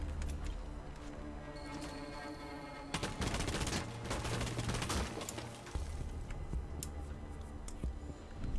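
Dense, rapid gunfire from a Rainbow Six Siege match, sustained bursts of overlapping shots, loud and close, with a brief lull before a heavier volley midway.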